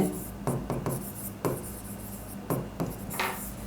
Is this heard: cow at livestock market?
no